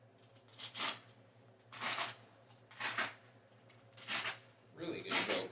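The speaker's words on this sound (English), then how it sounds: "Really good Velcro." A Velcro fastener on a motorcycle riding pants pocket is ripped open and pressed shut repeatedly, five loud rasping tears spaced about a second apart, close up and alone.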